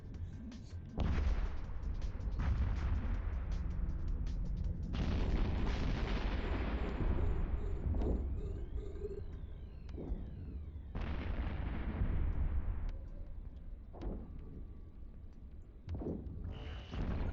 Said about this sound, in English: Things are actually being shot at correctly on my screen.